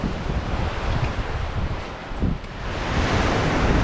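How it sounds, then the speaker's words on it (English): Strong wind batters a mountaintop in freezing rain, a loud, continuous roaring rush with buffeting gusts pushing against the microphone, heard alone without speech. "Want to know how windy it is? It's insane. It's getting worse."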